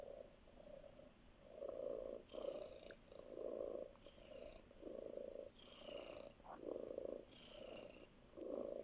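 A cat purrs softly and close, steady rhythmic rumbling cycles of inhale and exhale repeating about once per second in a quiet room.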